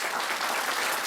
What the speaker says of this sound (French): Vous pouvez les applaudir pour les encourager.